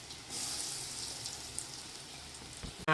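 Sweet potato chops shallow-fry in a little oil with a soft, steady sizzling hiss. A sudden louder knock comes right at the end.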